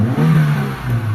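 Mitsubishi Lancer GLXi engine with a misfire and low power revving close up, a steady low rumbling drone that rises and holds throughout, with no talk.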